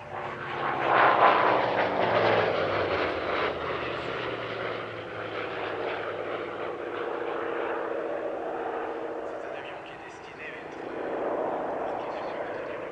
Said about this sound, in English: Next to fly, Aero Restauration's Sea Fury FB11.